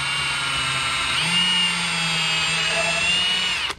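A power drill bores into a plastic cutting board, a steady loud whine with a slight pitch shift as it bites, running continuously for several seconds before cutting off.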